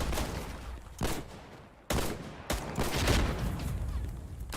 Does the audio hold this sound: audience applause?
no